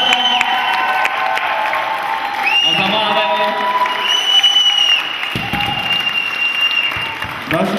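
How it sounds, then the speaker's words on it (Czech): A crowd at a summer camp gathering gives big applause for a camp leader, sustained dense clapping with some cheering and whistles, loud, with voices briefly rising over it. "takže bych obrovský potlesk Merče Dědíkové"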